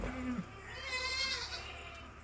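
A young male goat about two months old gives a short, quavering bleat close by, followed by a fainter, higher bleat against a low background hum.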